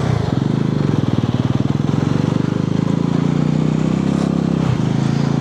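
A motorcycle ridden in sports mode up a hill road in Nepal drones steadily and loudly, its engine pulsing evenly throughout with a slight dip near the end.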